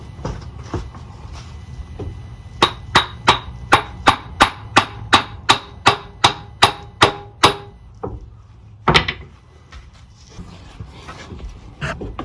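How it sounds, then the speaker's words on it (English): A hammer taps a CV axle into place on a 1988-1992 Toyota Corolla, striking about fifteen sharp, evenly spaced metallic blows, then one heavier hit after a short pause, all loud and near. "You may need to use a hammer to tap it in."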